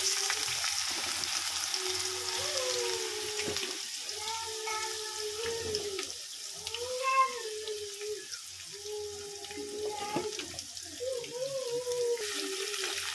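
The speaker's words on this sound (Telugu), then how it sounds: "కాకరకాయలు అయితే వేసుకుంటున్నాను." Sizzling hiss of bitter gourd pieces frying in hot oil with seasoning seeds, a steady broadband crackle running throughout, with occasional tonal clinks and scrapes under it.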